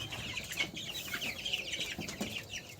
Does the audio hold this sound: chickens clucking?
yes